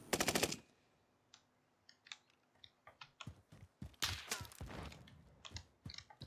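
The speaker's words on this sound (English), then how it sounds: "someone shot at me there" Gunfire in Call of Duty Warzone, with a loud opening burst and then scattered sharp shots and short rapid volleys, near and distant, mixed with clicking and footstep-like taps.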